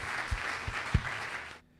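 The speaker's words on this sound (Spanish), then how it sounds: "¿Cuántos le dan un aplauso fuerte a la palabra del Señor?" A church congregation applauds loudly, a dense wash of clapping with a few sharp thumps, stopping abruptly near the end.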